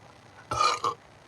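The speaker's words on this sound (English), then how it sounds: "I just burped twice." A person burps once, a short, close, guttural belch with a brief second pulse at its tail, in an otherwise quiet room.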